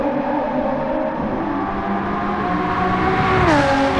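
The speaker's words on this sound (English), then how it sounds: "You hear the turbo screaming on these things when they go by." A NASCAR stock car in Gran Turismo 7 at Maggiore gives a loud, sustained engine and turbo whine that holds steady, then sweeps down in pitch as the car passes near the end.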